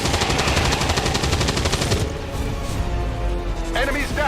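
Rapid automatic gunfire from a soldier's shot in the XCOM 2 strategy game, a dense, loud rattling burst lasting about two seconds, then fading into quieter game ambience with a voice briefly speaking.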